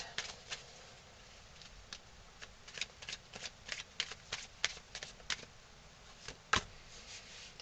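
Tarot cards are drawn from a deck, giving a run of quick, crisp flicks and slides of card stock, each one short and close, spaced irregularly over a quiet background.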